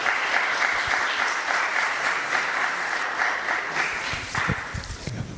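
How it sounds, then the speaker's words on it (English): An audience at a school event gives sustained applause for the academy's director, a steady dense clapping that runs throughout with a few footsteps near the end. "a round of applause for Mrs. Sharma, the director of Swaminarayan Academy"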